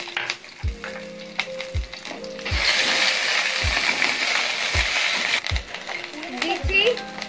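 Ginger paste hitting hot oil in a frying pan for a capsicum paneer dish, bursting into a loud, steady sizzle, with repeated clinks of a utensil against the pan and a voice speaking over it.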